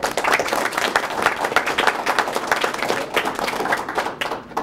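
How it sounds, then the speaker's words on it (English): An audience at a school board meeting gives a round of applause, dense hand clapping that stays strong for several seconds before thinning out at the close. "Please join me in giving them a huge round of applause for their leadership."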